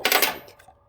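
Small metal washers, one-inch size, clatter as they are handled and dropped, giving a brief bright metallic jingle with a few quick clinks that fade out within a second.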